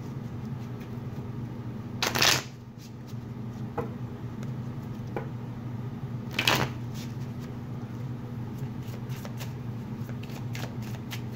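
Tarot cards are shuffled in two sharp riffling bursts, with a few softer taps and slides of the deck between them. A faint steady hum runs underneath and nobody speaks.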